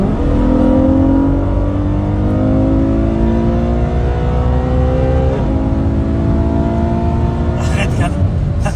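A car engine drones loudly and rises in pitch as it revs up through several steady climbs, heard from inside the vehicle with a brief shift near the end.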